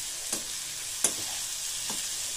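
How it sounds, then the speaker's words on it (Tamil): Basmati rice simmers with brinjal masala in a pan over a low flame, a constant gentle sizzle broken by three quick stirring scrapes, with no talking. "இப்போ சாதம் சேர்த்தாச்சு."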